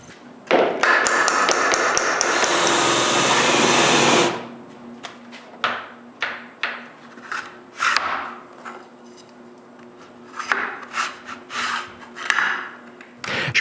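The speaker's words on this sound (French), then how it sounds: "Ensuite, je taraude le bois." A thread tap is turned into wood, giving a dense burst of scraping and rubbing followed by a series of separate creaks, rasps and taps, all close and loud with no talk.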